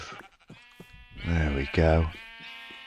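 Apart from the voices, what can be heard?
sheep bleating in the video game Minecraft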